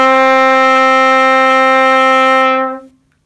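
A trumpet holds a single sustained D, a loud, steady, bright brass tone that lasts about two and a half seconds before fading out, with no talking.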